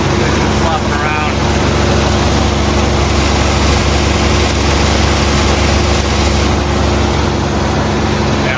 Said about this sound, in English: there's a heat riser flap on the exhaust manifold. It's making a lot of racket. It's just flopping around.